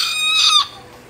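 Chicken clucking and crowing, a single loud call with bright harmonic tones that cuts off abruptly after about half a second, leaving faint background noise.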